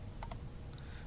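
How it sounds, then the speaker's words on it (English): A few key presses on a computer keyboard while entering a number into an Excel spreadsheet: two close taps, then a fainter one, quiet against a low room hum. "I'm going to type a number 1 here"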